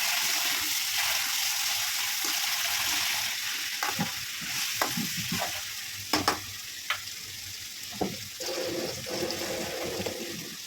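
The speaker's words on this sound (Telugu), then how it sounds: "చికెన్ వేసుకుని చికెన్ కూడా బాగా వేగాలి" Chicken fries in a pan, with a continuous loud sizzle broken by repeated scraping stirs and clacks of a spoon against the pan. It is heard up close, with no talking.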